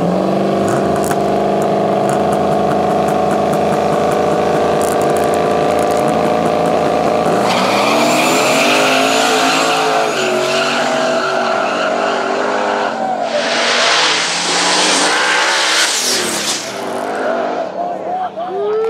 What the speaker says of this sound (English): Magic, twin turbo, LS powered GMC